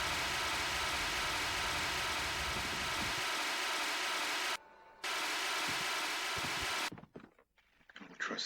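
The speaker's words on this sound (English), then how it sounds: "Trusty fire extinguisher." Fire extinguisher spraying in the video game The Thing, a loud steady hiss of broadband noise that briefly cuts out, resumes, then stops abruptly into quieter background sound.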